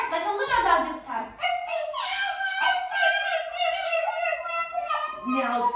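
Children in a kids' yoga class imitate a little dog with a run of high, yipping barks and whimpers, several voices overlapping in quick bursts, near and fairly loud.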